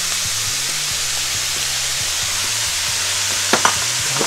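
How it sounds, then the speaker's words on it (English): Bite-sized chicken pieces frying in a pan for Japanese chicken curry, a steady loud sizzle with a couple of brief scrapes as they are stirred. "I'm just going to stir this"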